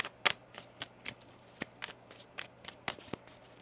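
Tarot cards being shuffled up close, a steady run of soft slaps and riffles repeating every fraction of a second, with no talking.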